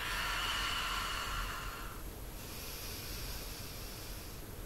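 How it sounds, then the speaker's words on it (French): A slow, deep breath drawn in and let out, soft and airy, close by with no talking. "On inspire profondément, on expire."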